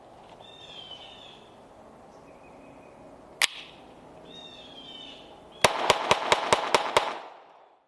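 A Sig Sauer P322 pistol firing .22LR rounds outdoors: one sharp shot early on, then a rapid string of about seven evenly spaced cracks near the end, with quiet ambience between.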